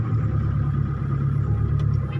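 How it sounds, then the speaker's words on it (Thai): Cars idle in a slow traffic jam climbing a steep mountain road at Khao Sam Muk during a storm, a continuous low, close engine drone heard from inside a vehicle, with no talking. "ตอนนี้รถติดมาก"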